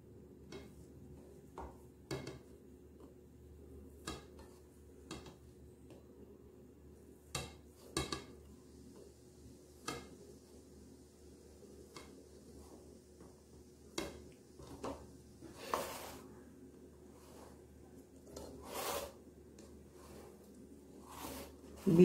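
A knife cuts through a tray of soft coconut saffron burfi with faint, scattered taps and clicks against the tray, spread irregularly over a quiet room hum.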